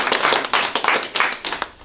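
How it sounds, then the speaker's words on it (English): A small group in an office meeting claps hands, a brief burst of uneven, close applause with sharp overlapping claps lasting under two seconds. "So give Mike a round of applause"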